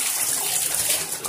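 Water rushes and splashes steadily in a tub or basin as a crustpunk battle jacket is washed, giving a loud, close, continuous gushing sound with no voices.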